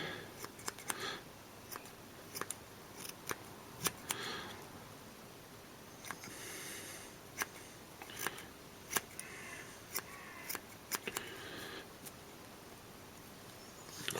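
Scissors trimming a dubbing brush on a bullhead pike fly, a series of short, crisp snips spaced irregularly across the stretch, close and fairly quiet, with no talking.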